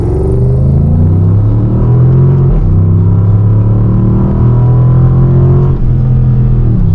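A Dodge Charger R/T in forced rear-wheel drive with traction control off accelerates hard from a standstill to 60 mph, a loud, deep engine roar that climbs through the revs with brief dips at the gear shifts, heard from inside the car.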